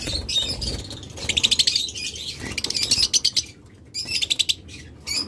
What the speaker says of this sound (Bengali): চমৎকার opaline double factor Ewing lovebird